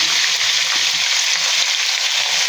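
Potatoes go into hot oil with already-fried garlic and onion, giving a steady, close, bright sizzle with soft low clatters of stirring, and no voices.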